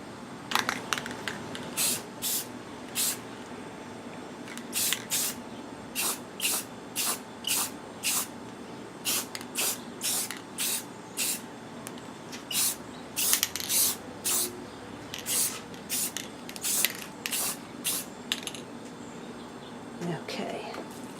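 Short repeated bursts of spray paint hiss in an irregular rhythm, each a second or so long, as a Kisco fan gets a single coat of black paint, with no talking during the clip.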